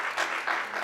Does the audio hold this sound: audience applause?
yes